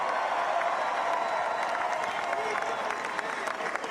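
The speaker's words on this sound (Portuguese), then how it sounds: "Trump é muito aplaudido" A large audience at a Trump speech applauds and cheers in a dense, steady roar of clapping and crowd noise that holds at an even level throughout.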